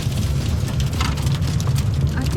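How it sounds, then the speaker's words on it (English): Hail drums steadily on a car while driving at high altitude through black volcanic ground in the Peruvian mountains, a dense, even patter over a low engine and road rumble. "The first time we are driving through hail."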